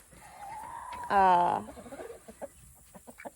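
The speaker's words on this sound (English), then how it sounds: "we have quite a few roosters in here and we do not need that many" A rooster gives a loud drawn-out squawk, followed by a series of short soft clucks nearby while a person talks.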